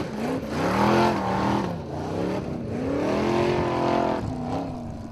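The engine of an old Jeep racing off-road in Icelandic Formula Offroad revs hard and rises and falls through gear changes, loud and fairly close, with no talk over it.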